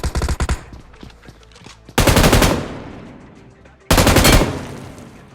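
Gunfire from an upgraded M249 light machine gun in the mobile battle royale game BGMI (PUBG Mobile) comes in loud, close rapid bursts: a short volley at the start, then two longer sustained strings separated by quieter distant shots.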